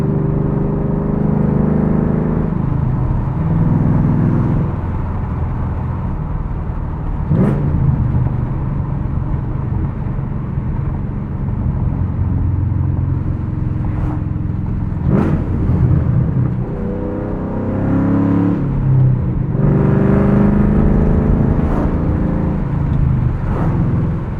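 A loud 2007 Ford Mustang Shelby GT with a 5-speed manual rumbles through a drive, its engine note rising and falling with several sharp blips during downshifts, heard from inside the car.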